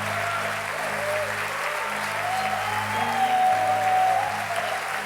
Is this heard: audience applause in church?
yes